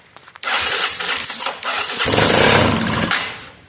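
A Honda Hawk 250 motorcycle engine fires up on a shot of carburetor cleaner, catching after a few clicks and running loud and rough for about three seconds with rising revs before dying back down.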